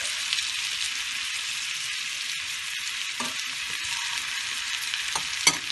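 Blackened Cajun shrimp sizzle steadily in a skillet with a bright, even hiss. A few utensil clicks sound as the shrimp are turned, including a sharper knock near the end. No voices.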